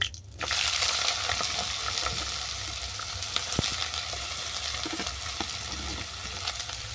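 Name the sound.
frying gourd peel and potato in pan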